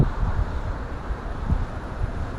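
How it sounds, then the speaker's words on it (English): Strong sideways wind buffeting a microphone during a ride on a Begode A5 electric unicycle, a constant loud rumbling roar with low gusty thumps and no voices. "Super sideways windy"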